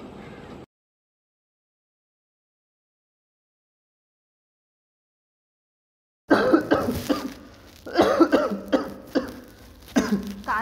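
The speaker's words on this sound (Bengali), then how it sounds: "কাশি তো কমছেই না।" A tuberculosis patient coughs in a cluster of harsh, rough bursts that come close and loud after a long stretch of silence, with a brief throaty sound at the very start.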